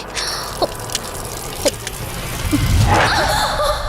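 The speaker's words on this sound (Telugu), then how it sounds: "నువ్వెంత కట్టినా ట్యాప్ ఆగదమ్మా, అది రిపేర్లో ఉంది" Water from a broken tap that won't shut off falls in a few distinct drips, spaced irregularly over a faint background, then a louder splashing gush of running water.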